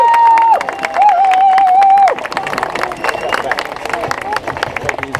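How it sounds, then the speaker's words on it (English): Crowd applause at a community event, a dense steady patter of clapping with scattered cheers, partly overlapped at the start by a sustained sung or feedback-like tone and background chatter. "Let's give another round of applause."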